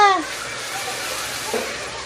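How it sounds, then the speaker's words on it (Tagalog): Continuous splashing water hisses at the swimming pool of Mergrande Ocean Resort, a close, even wash with a short tonal squeal at the start. "Yan guys, ang kanilang swimming pool."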